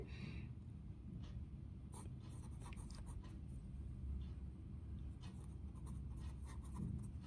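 Pen writing an answer on paper, a soft run of scratchy strokes and taps close by over quiet room noise, with no talking.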